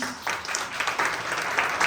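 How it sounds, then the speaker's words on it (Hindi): Applause from a church congregation, a steady patter of many hands clapping at moderate loudness, with a voice heard faintly under it. "ये लोगों के लिए तालियां मारो"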